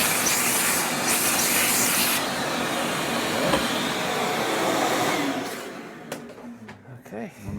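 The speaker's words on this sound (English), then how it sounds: "So let me vacuum here." A vacuum cleaner runs steadily with a loud rushing hiss while cleaning a Ceado E37S coffee grinder during burr removal, then cuts off, leaving people talking briefly.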